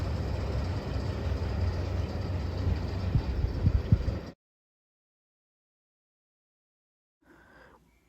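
A CPKC phosphate freight train led by two GE locomotives rolls past with a steady rumbling roar and clattering wheels, loud for about four seconds before cutting to silence, then a faint snippet returns near the end.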